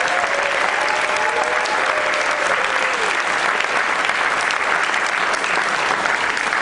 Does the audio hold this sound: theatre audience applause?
yes